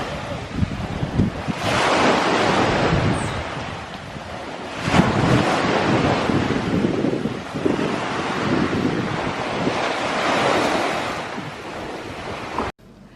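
Seaside surf and gusting wind make a loud, rushing roar with waves swelling and breaking, while heavy wind buffeting hits the microphone. Everything cuts off abruptly near the end.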